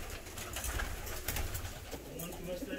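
Fancy pigeons, including tumbler and black-tailed breeds, coo steadily throughout a crowded loft full of birds, a dense low murmur with overlapping calls and faint rustling.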